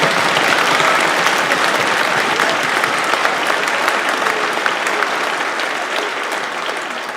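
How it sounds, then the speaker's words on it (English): A school auditorium audience gives sustained, dense applause for high school string players, the clapping steady and loud throughout and tapering slightly toward the end. "Let's give those high schoolers another round of applause."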